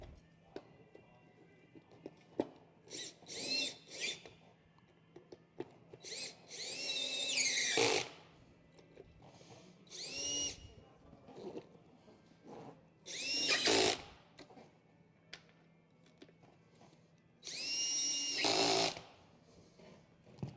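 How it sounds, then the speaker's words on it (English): A power drill driving bolts into a chair whirs in several separate bursts, each rising in pitch, with quiet pauses between them and a faint background hum. "Grab my drill here."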